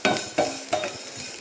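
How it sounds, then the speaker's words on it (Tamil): Curry leaves dry-roasting in a pan, stirred with three distinct scraping strokes over a soft, steady crackle close by. "கருவேப்பில் வந்து நல்லா வறுபட்டுருச்சு"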